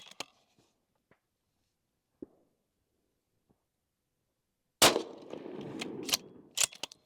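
A Remington 700 .223 rifle fires a Sierra Match King 69-grain round: after near silence, a single sharp, loud report lands near the five-second mark, followed by a short stretch of rattling and clatter.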